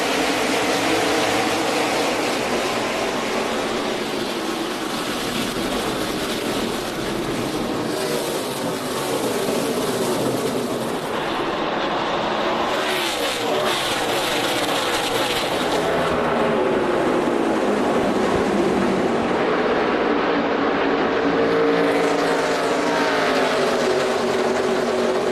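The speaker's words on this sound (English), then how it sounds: "Ready to go green for race number 2 of the NASCAR Nationwide Series season at Phoenix." NASCAR Nationwide Series stock cars racing at Phoenix, a loud continuous roar of many engines passing and droning, rising and falling as the pack moves around the track.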